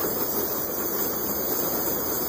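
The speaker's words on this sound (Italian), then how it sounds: "è tutto il vapore che esce" Steam hisses steadily and loudly from the Yama Jigoku hot spring in Japan, a constant broad rush with no talk.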